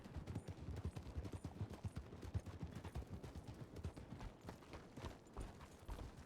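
Steady, rapid hoofbeats of a horse in a video game clip-clop continuously at a trotting pace, fairly loud and close, with no voices over them.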